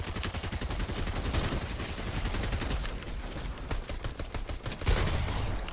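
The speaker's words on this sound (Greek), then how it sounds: "Κάποιος άλλος πυροβολάει μακριά, νομίζω." Gunfire in the Fortnite video game, a dense, steady fusillade of rapid shots and automatic bursts that fills the whole stretch without pause and swells briefly near the end.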